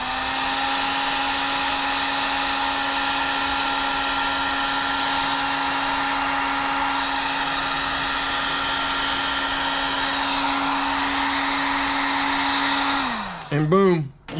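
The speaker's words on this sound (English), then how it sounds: "Heat gun." A heat gun blows with a steady, loud whirring roar as heat shrink tubing is shrunk over a wire connection on a Jeep TJ, running close for about thirteen seconds before the motor winds down.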